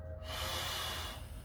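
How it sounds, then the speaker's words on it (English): A long, steady exhale from a beginner hatha yoga and tai chi class, a continuous breathy rush of air held at an even level for about a second and a half. "Exhale out."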